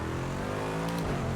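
Bentley race car engine revving in Project Cars 2, a steady loud drone with rising and falling pitch as the engine climbs through the revs, with no talking.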